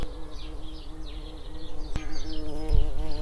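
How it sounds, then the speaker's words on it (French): Bumblebees buzz steadily throughout, with a brief sharp click near the middle and a low thump toward the end. "les bourdons"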